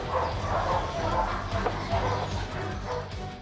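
Drug detection dog barking and yipping in a training facility, short repeated barks close by over a steady background rumble, with faint voices in the mix.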